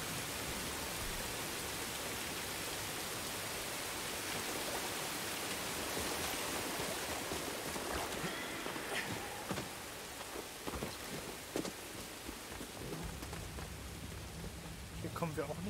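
Waterfall in Star Wars Jedi Fallen Order, the video game: a steady, dense rushing of falling water fills the whole scene at even loudness, with a few scattered clicks and thuds near the end.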